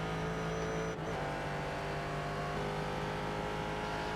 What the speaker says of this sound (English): It's catching now, that V8. I get to hear the sounds again.